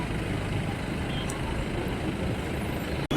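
Jammed traffic at a police checkpoint on highway NH-49, where trucks and buses give off a steady, dense rumble of idling engines and road noise, with a brief sharp click near the end.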